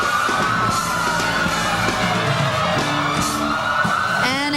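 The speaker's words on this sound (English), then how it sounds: "Only this parade of parades could create the sound of sirens" Police motorcycle sirens wail continuously through a busy outdoor crowd at the 2005 Macy's Thanksgiving Day Parade, with a rising electronic whoop near the end and loud, dense background noise throughout.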